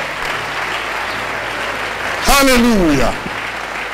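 A church congregation claps in sustained, dense applause throughout, and midway a voice shouts loudly over the clapping for under a second.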